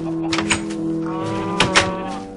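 Minecraft cows on a small farm letting out a low, drawn-out moo, close and clear, with a couple of short bumps from game actions alongside.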